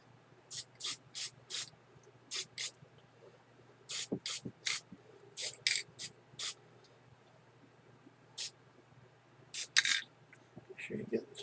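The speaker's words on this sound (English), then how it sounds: "So now I'm going to give this a quick spray off camera" Aerosol spray seals a weathered model railroad car in quick, short hissing bursts: about a dozen puffs in uneven groups, close and fairly faint, with soft handling noise between them.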